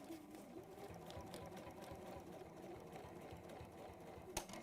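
Sewing machine stitching forwards and backwards for a holding stitch, a quiet, steady whirring run with a single sharp click near the end.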